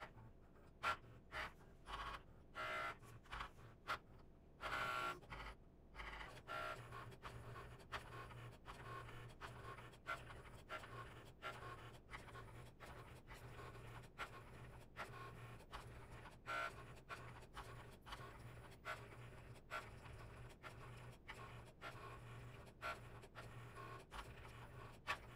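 A Cricut cutting machine slicing sticker sheets, giving a long run of rapid clicks and faint motor whirring with short pauses, quiet and close, with nobody speaking.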